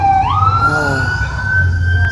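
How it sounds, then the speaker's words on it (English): A wailing emergency vehicle siren at night rises and holds a steady high tone, loud and close, over a constant low traffic rumble. "Sirens out tonight."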